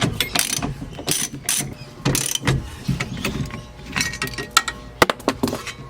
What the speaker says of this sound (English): the next job is to undo this, and that's just 3 bolts